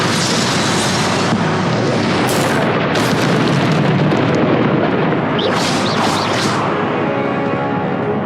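Confringo spell blasts in Hogwarts Legacy give loud, dense booming explosions with crackling bursts, several hits in quick succession over a continuous roar, close and loud with no voices.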